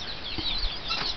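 Chicken clucking on a farm: a couple of short, soft clucks over a steady background hiss, fairly distant and faint, with no talking.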